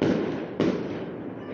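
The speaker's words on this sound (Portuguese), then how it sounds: "Fogos de artifício." Fireworks bursting in a quick pair, a loud crackling boom followed by a second blast about half a second later, with dense broadband crackle sustained throughout and no voices.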